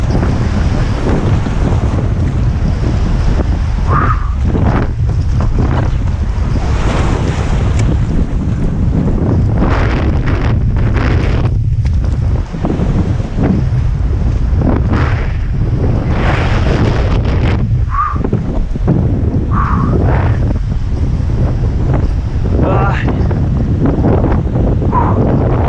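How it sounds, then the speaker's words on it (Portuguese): Strong wind buffets a kayak at sea, a loud, unbroken roar of wind gusting across the microphone with wave wash beneath it, steady for the whole stretch. "o vento entrou muito rápido, muito forte. Você deve estar ouvindo na câmera, né?"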